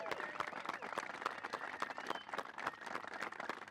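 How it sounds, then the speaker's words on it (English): Applause from a live audience honoring the crew at a golf instruction academy event, with many scattered hand claps forming a steady, moderately distant wash that keeps going throughout. "how about one big round of applause for this crew?"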